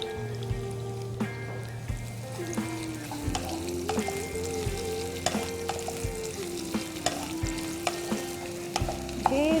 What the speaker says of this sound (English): Now to this I'm going to add some onions. I've chopped in about 3 to 4 small onions.